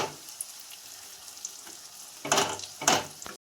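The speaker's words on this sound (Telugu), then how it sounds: "ఇలా లో ఫ్లేమ్లో పెట్టుకొని 15 నిమిషాల పాటు కలుపుకుంటూ మొత్తంగా పచ్చడి అంతా రెడీ అయ్యేంత వరకు ఇలా వేయించుకోవాలి." Tomato pickle fries in extra oil on a low flame, giving a soft steady sizzle, then two louder scraping stirs of the spoon near the end before the sound cuts off abruptly, close with no talking.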